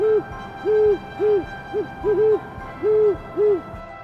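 A great horned owl gives a series of deep, rounded hoots, about seven in an uneven rhythm with short gaps, heard clearly and fairly close over a quiet background.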